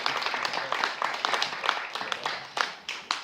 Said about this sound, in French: On peut applaudir Kevin, on peut applaudir André et Macera,